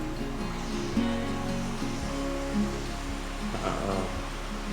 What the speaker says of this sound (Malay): Kat tepi ni ada anak sungai.